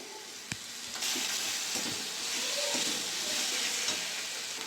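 Ginger-garlic paste frying with lightly browned onions in a pan for Bengali fish kalia, giving a steady close sizzle with a few sharp pops and stirring scrapes.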